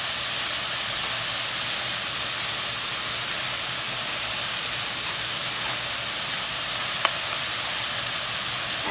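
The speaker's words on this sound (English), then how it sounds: "you want your heat very high because you don't want your rice to steam. You're looking for it to fry." Vegetable fried rice for a Guyanese dish sizzles over very high heat in a hot pan, a steady loud hiss of frying that runs unbroken throughout, with one small clink near the end.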